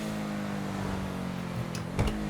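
An Obey Tailgater S car in GTA 5 hums at a low, steady idle, fairly faint and even throughout, with a brief swell of engine noise near the end.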